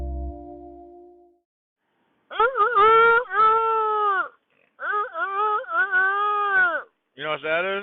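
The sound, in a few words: young rooster crowing in the morning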